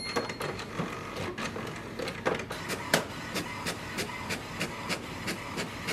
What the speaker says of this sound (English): We can just print the welcome sheet.